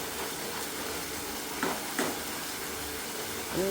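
Dum aloo masala sizzling in hot oil as it is stirred, a dense continuous hiss with a couple of brief scraping stirs, close and steady with no talk.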